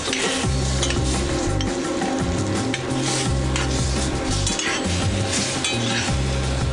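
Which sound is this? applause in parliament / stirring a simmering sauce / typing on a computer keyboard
stirring a simmering sauce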